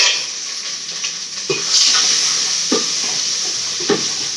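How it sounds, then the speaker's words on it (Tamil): Onions frying in a pan for a Tamil-style prawn curry, a steady close sizzle with hiss and a few sharp stirring scrapes and clatters against the pot, with no talking. "உப்பு ஜாடி வெங்காயம் போட்டுக்கலாம்ப்பா."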